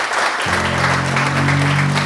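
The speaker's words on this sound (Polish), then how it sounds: "I jeszcze raz wielkie, wielkie brawa dla chłopaków" Applause from a concert audience after a jazz performance at a Valentine's show, a steady wash of clapping, with sustained musical tones entering under it after the first half-second.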